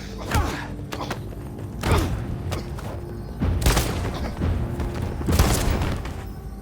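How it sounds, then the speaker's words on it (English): Several booming video game gunshots from Detroit: Become Human ring out at intervals, each a heavy thud with a rushing tail, over a continuous rumbling backdrop. "It's only a gunshot."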